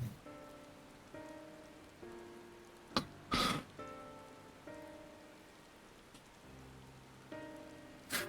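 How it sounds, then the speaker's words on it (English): Rain falls in the video game Final Fantasy XIV, a soft steady patter on surfaces beneath recurring tonal chimes, with a couple of sharper louder bursts partway through. "Of course it's raining."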